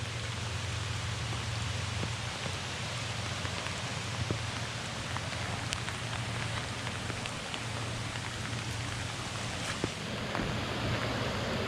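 A small waterfall in Nebraska rushes in the rain, a steady broadband hiss of falling water heard from nearby without pause, with no voices.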